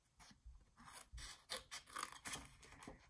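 Scissors snip through paper along short cut lines while making a coin envelope craft, a series of close, crisp rasping cuts in uneven bursts with no talking.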